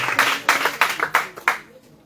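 A church congregation claps in unison: about seven sharp, rhythmic claps in quick succession that fade into near silence at the end.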